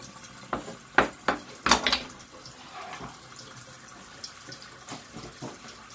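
Tap water runs into a sink as vegetables are washed for a soup, a steady low rush broken by a few sharp clatters and knocks of handling, with no talking.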